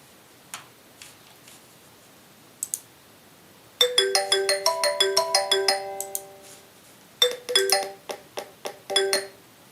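An incoming call to a live Q&A programme with the Prime Minister rings as a bright electronic phone melody, two bursts of chiming tones separated by a short pause, loud and close with no talk.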